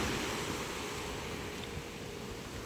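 Heavy ocean surf roars continuously off the coast of Tanza, Cavite, a dense wash of big waves mixed with gusting wind noise on the microphone.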